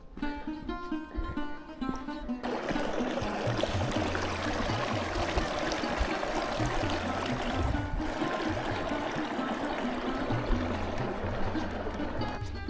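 A mountain stream flows steadily along the Everest Base Camp trek in the Himalayas, a close, continuous rushing and gurgling of water that fills in after a brief quieter opening.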